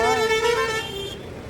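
A car horn toots briefly, a steady tonal blare with stacked harmonics that fades out after about a second, with traffic noise around it.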